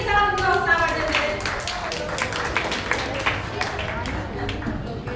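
At a school speaking session, an audience applauds to welcome the next student speaker, a steady burst of many hands clapping that gradually thins out, with some voices mixed in.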